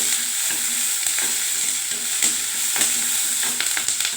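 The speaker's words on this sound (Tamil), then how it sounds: "கொஞ்சம் ரெண்டு கடலை பருப்பு வறுத்துக்கோங்க எண்ணெயிலே கடலைப்பருப்பு போட்டு செஞ்சுட்டாங்க பாருங்கள்" Chana dal frying in hot oil for a Tamil chutney, a steady bright sizzle with occasional soft stirring scrapes and small pops, close and continuous with no talking.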